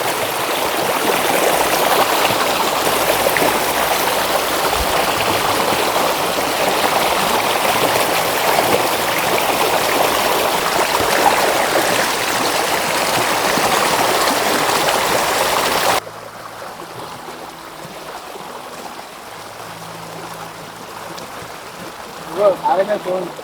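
A stream in flood rushes steadily nearby for most of the clip, then cuts to a quieter stretch with faint water and a brief voice at the end.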